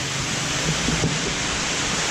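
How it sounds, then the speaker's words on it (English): Steady rain during a tropical depression at a mostly abandoned tropical beach area, a constant dense hiss close by with no talk over it. "we're just gonna wait out the rain"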